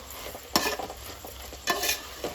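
Kurma with salt gets stirred in a hot pan, with a close, continuous sizzle broken by two or three loud spatula scrapes and pushes.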